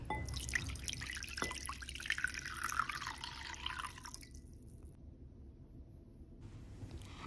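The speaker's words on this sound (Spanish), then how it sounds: "Ocuparemos dos tazas de agua tibia." Two cups of warm water are poured in a steady splashing stream for dissolving dry yeast with a little sugar; the flow runs for about four seconds, then stops, with no one talking.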